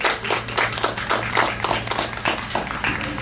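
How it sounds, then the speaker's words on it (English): An audience claps at an outdoor park concert, a dense, continuous patter of many hands with steady rhythm and fairly close, loud presence. "Give a big round of applause."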